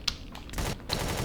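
Bursts of rapid gunfire from the video game Empyrion, several quick loud shots in a rattling fusillade over a constant background hum.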